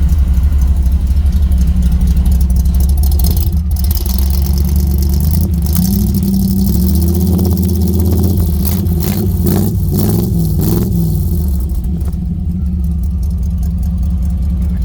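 A car engine fitted with quiet mufflers idles steadily with a low, muffled rumble, rising briefly into a few gentle revs before settling back down.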